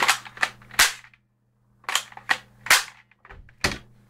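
A modified Nerf Maverick rev.6 blaster clicks and snaps in a series of sharp, close, cap-gun-like shots, about eight distinct cracks in quick uneven succession with a short pause midway.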